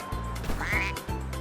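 Howard the Duck, a character in the LEGO Marvel Superheroes video game, gives a quick quack as he jumps, set over a repeating, pulsing game music loop.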